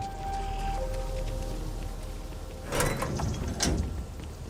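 Door opening in Starfield, a soft mechanical hum followed by two close whooshing slides about a second apart over a quiet ambient background.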